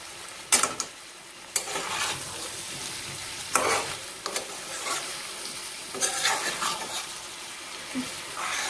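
Green chili and pre-fried bori stirred together in a hot pan for a Bengali pumpkin dalna, giving a soft steady sizzle broken by several sharp scrapes of the spoon, fairly quiet and with no talking.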